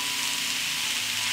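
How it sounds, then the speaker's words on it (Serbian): A meat-filled tortilla sizzles in a heated frying pan with a steady, even crackle and hiss, close and uninterrupted, with no talking. "Na zagrejan tiganj spuštam tortilju sa mesom ka dole da se ispeče."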